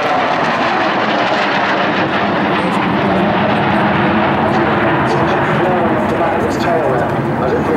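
A historic Royal Swedish Air Force aircraft flies past over Jersey near Elizabeth Castle, its engine drone steady and loud, sweeping across from right to left with a commentator talking over it.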